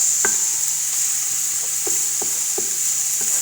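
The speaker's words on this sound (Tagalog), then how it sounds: "Pwede na natin lagay yung ginger." Ginger sizzling in a hot pan, a constant bright hiss with a handful of light spoon clicks and scrapes as it is stirred, close and without talk.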